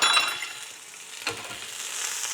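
Onions fry in a pan with a soft steady sizzle. A brief clink of a utensil cuts in partway through, and the hiss picks up again near the end.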